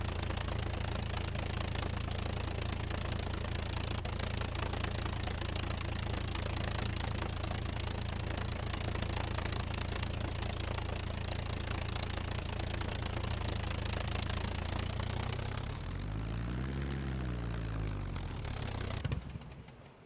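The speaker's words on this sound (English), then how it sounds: "Do we dare drive this plane down through the woods?" A light airplane's engine and propeller in the video game SCUM, a steady droning rumble that holds for most of the stretch, then dips and wavers in pitch near the end before cutting off, with no talk.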